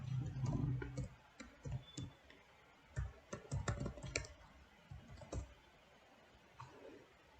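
CSS code is typed on a computer keyboard in short bursts of quiet, close key clicks, separated by brief pauses.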